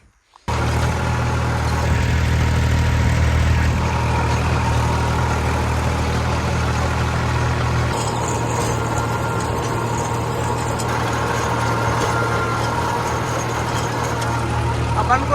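A tractor engine idles steadily and close by in a field during maize seeding work, a constant low rumble with a faint high whine joining midway, running alone throughout.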